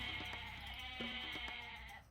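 Goats in a video game bleat in short, wavering cries, several overlapping calls over a steady game background with no speech.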